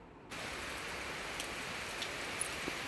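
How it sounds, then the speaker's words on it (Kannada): Heavy rain pours down near a temple, a dense, even hiss that starts abruptly and holds steady throughout. "ನೋಡಿ ಹೀಗೆ ಬರ್ತಿದೆ. ಹೀಗೆ ಉದ್ದಕ್ಕೆ ಈ ಥರನೇ ಮಳೆ ಆಯಿತು ಅಂದರೆ ಭಾರಿ ಕಷ್ಟ ಆಗುತ್ತೆ ಬರೋದು"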